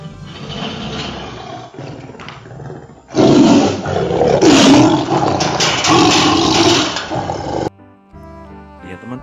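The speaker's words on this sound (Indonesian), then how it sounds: "ini adalah harimau Sumatera teman-teman" A loud electronic Sumatran tiger roar from a toy blares for several seconds, preceded by a quieter growl, with a short tinkly tune after.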